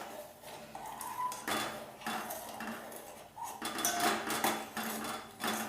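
A spoon scrapes and clinks against a metal pot while herbal water with salt is stirred, giving irregular close knocks and scraping strokes with short pauses between them and no talk.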